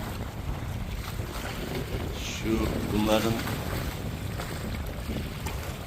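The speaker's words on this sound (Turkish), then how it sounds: "17-18 kilometre saatlik tatlı bir rüzgar var" Wind rushing over open sea during a sailboat race at Çanakkale, a steady breeze of about 17–18 km/h giving a continuous broadband roar with water noise, while someone talks briefly over it.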